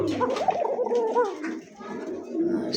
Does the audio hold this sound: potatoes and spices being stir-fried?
no